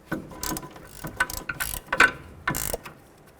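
A ratchet wrench turns off a sway bar link nut on a 1996–2004 Nissan Pathfinder front suspension, giving several close bursts of rapid metallic clicking in quick succession with short pauses between.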